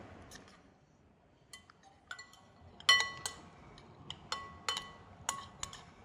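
Spoon clinking against a bowl while stirring mayo into lobster meat for a lobster roll, with scattered light taps and scrapes building in the second half, close and fairly quiet.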